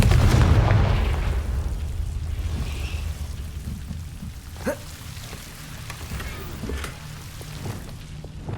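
In the Hogwarts Legacy video game, a Confringo fire spell goes off as a deep booming blast at the start. It then fades into crackling debris, pattering like rain, with a sharper pop midway through.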